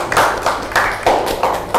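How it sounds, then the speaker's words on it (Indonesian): A handful of people clap in slow, uneven rhythm, close by, brief scattered applause without voices. "Sekali lagi tepuk tangan dong untuk"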